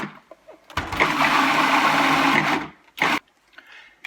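A blender whirs loudly as it purees a simple four-ingredient pesto, running for about two seconds, then giving one short pulse. No voices are heard.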